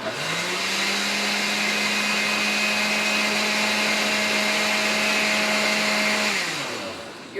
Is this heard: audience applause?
no